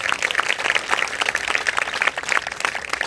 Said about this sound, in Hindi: ये जोरदार तालियां बजाएं।